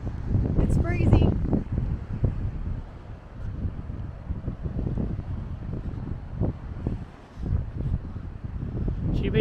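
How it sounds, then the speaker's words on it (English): Blustery wind buffets the microphone on an ocean coastline at the southernmost point of South Australia, a steady rumbling roar with gusts, while people talk over it. "It's breezy."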